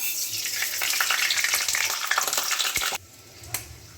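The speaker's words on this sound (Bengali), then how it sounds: "শুকনো লঙ্কাটা একটু ভেজে নেওয়ার পরে আমি এখানে বাকিগুলো একসাথেই দিয়ে দেবো মেথি মৌরি আর গোটা সর্ষে" Dry red chillies with fenugreek, fennel and whole mustard seeds fry in hot oil, making a dense, steady, crackling sizzle that cuts off abruptly. A quieter hiss and one brief pop follow.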